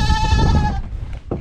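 A goat held in the arms on a mountain farm gives one loud, close, wavering bleat lasting under a second, followed by quiet rustling and a brief soft thump.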